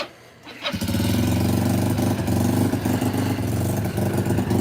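A child's four-wheeler engine fires up after a brief quiet moment, then settles into a loud, steady, buzzing run close by with no talking.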